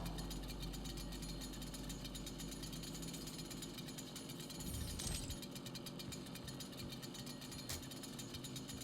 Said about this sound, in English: So we got the chainsaw now.